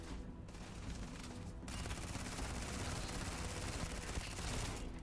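Continuous rapid gunfire from robots in the video game Starfield, a dense loud barrage that keeps going without pause, with no voices.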